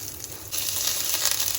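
Mustard seeds sizzle in a hot pan as they are dry-roasted, giving a soft, steady crackling hiss that grows slightly louder midway, close and alone.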